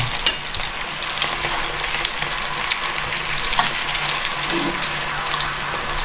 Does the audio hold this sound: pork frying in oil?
yes